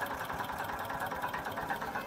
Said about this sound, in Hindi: बंद होगा जनरेटर यहाँ से